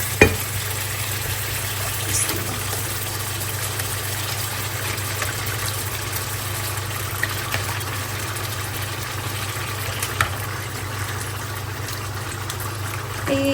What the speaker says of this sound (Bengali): এই জায়গায় আমার মাছ ভাজিটাও বসাই দিয়েছি